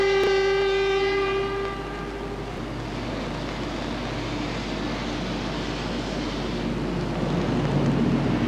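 A 0 series Shinkansen Hikari bullet train departs westward, opening with a long horn blast and then settling into a steady, loud rumble and roar of wheels and motors that swells slightly toward the end.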